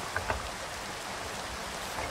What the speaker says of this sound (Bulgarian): от едната страна вали сняг, от другата страна дъжд